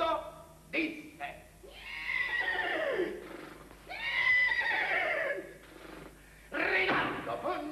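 Horse whinnies used as a puppet show sound effect, several long rising-and-falling neighs, loud and close, with brief thumps between them and a narrator speaking Italian.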